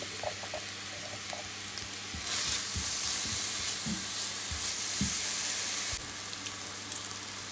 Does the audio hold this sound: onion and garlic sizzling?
yes